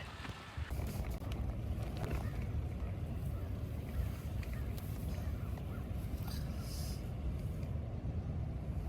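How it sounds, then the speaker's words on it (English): Strong wind roars steadily at a campsite in a state park on a cold January day, a dense rumbling buffet across the microphone with no letup. "It's still really windy."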